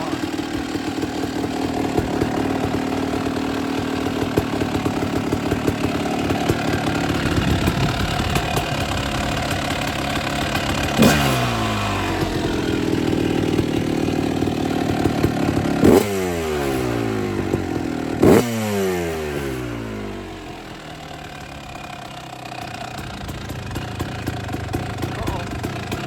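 A 2005 Honda CRF450 dirt bike, started after sitting for over six months, idles with a steady, lumpy thump close by. It is broken by a few sharp throttle blips that rise and fall back to idle.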